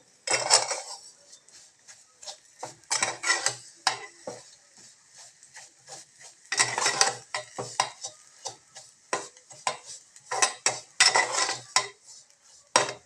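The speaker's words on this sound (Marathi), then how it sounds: "आता शेवया आपण तुपामध्ये भाजून घेऊया" Vermicelli roasts in ghee in a pan for kheer, stirred with a metal spoon: bursts of scraping and clattering against the pan come in irregular waves, close and crisp, with a faint sizzle between them.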